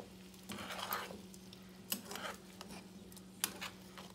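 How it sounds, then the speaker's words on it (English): Vegetables tossed and mixed with tongs in a pan on the stove, giving a few soft scraping, clacking bursts over a quiet steady hum, with gaps between stirs. "I'm just going to take my tongs and kind of mix it all about."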